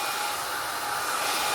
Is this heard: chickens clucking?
no